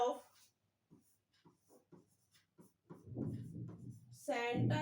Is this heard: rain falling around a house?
no